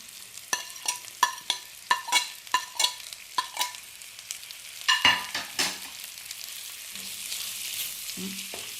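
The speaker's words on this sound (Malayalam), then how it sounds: "ഇതിലേക്ക് സവാള ചേർത്ത് കൊടുക്കുകയാണ്" Sliced onions drop into a pan of frying ginger and garlic, giving a close, moderate sizzle with repeated stirring scrapes that come in quick bursts, then a softer, steady frying hiss.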